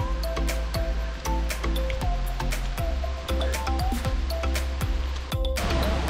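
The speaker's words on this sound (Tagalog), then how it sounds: "Ayan mga Lods, malapit na tayo sa falls." Lower Reid Falls near Skagway, Alaska, fills the scene with a steady, loud rush of falling water, broken by scattered clicks and knocks of handling nearby.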